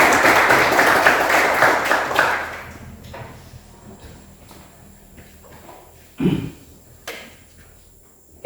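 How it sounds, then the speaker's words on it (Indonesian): A classroom of students applauds, with loud mixed clapping for about two seconds before it fades into quiet room noise with a few scattered knocks and footsteps. "berikan tepuk tangan untuk kita semua"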